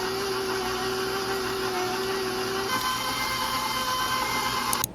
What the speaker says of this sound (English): here's our mixer. I'm gonna put it on low. I'm gonna let this whisk until it's fluffy.